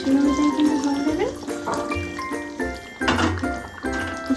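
Hot water is poured into a pot of mutton curry, giving a short splashing, gurgling rush with clinks of a vessel against the pot, heard close up.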